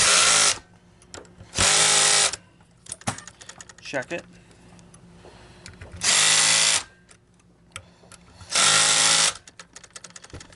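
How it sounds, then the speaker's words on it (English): Four loud bursts from a Hitachi cordless drill driving screws into a Kirby vacuum yoke at a medium torque setting, each whir lasting about a second, with quieter clicks and handling noise between and a brief spoken remark. "we're going to take the screwdriver, we're actually going to torque it down to a kind of a medium torque setting"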